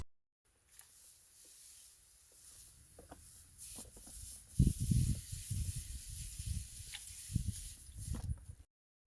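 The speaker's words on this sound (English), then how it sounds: "that was kind of a quick demonstration of the sprayer in action" A STIHL SG 11 handheld sprayer sprays in a soft, steady hiss, rising midway into a few stronger pressurised bursts before stopping, with no voices.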